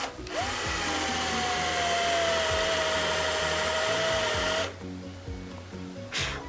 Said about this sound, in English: now I'm going to drill a hole